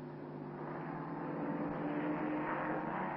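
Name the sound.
racing car passing on track, Glover Trophy race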